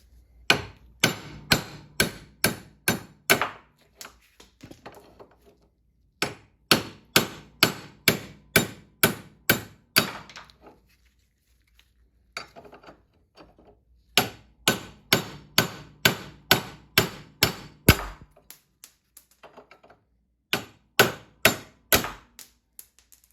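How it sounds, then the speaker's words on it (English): Hammer blows driving old studs out of a Triumph Spitfire part held in a bench vise, sharp metallic strikes in quick bursts of about eight to ten, separated by short pauses. "So I'm gonna go ahead and just hammer these out using my vise to just kind of support it"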